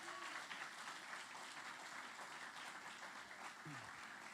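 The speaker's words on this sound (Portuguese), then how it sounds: "Vamos dar um forte aplauso ao Senhor Jesus." Applause from a church congregation, a steady dense wash of clapping at moderate level that continues throughout, with faint voices and a brief low sweep near the end.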